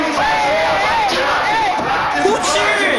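A crowd cheers and whoops loudly, with rising and falling shouted yells from several voices layered over a constant wash of noise.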